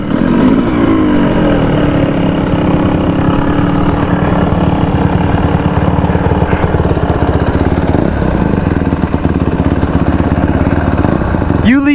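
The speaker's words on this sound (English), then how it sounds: "Oh, my bike is shutting off." Yamaha YZ125 two-stroke dirt bike running on 93 gas mixed with oil, a loud raspy buzzing engine close by that holds steady throughout with slight pitch wobbles.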